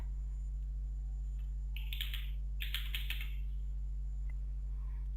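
A password is keyed in on a computer keyboard as two short bursts of quick, light key clicks over a constant electrical hum.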